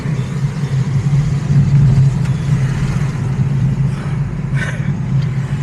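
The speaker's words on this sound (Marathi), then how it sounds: "गाडी एकदम टेस्टिंगला चालू आहे" A car engine runs steadily during a test drive after a service-centre visit, a continuous low rumble with constant road and wind noise, fairly loud and unbroken throughout, with no talking.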